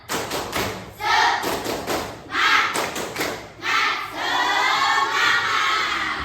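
A group claps in a quick rhythmic pattern, sharp bursts of hand claps alternating with cheering voices, ending in sustained applause.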